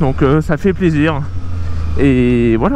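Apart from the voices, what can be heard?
No everyday noises stand out.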